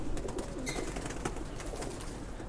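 Pigeon chicks in a cage give a steady, low murmuring coo mixed with scattered soft clicks and rustles, close by and continuous for a couple of seconds.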